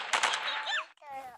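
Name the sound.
gunshot in the FPS video game Point Blank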